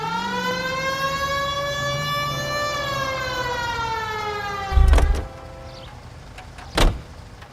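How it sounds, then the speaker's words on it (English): A loud police car siren in the video game L.A. Noire wails, rises and holds steadily for several seconds, then cuts out, followed by two sharp thuds against a low engine hum. "Cole, turn on the siren and pull her over"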